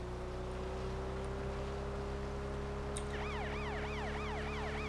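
A police boat siren from the video game Watch Dogs Legion starts partway through, a loud, rapidly wailing tone over a constant engine drone, with no talk.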